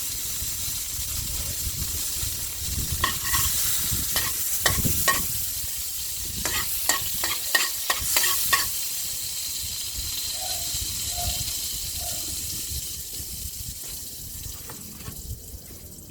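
Star margarine sizzles in a hot pan before garlic goes in for pork sisig, a steady close frying hiss with scattered scraping and stirring clicks from a utensil partway through.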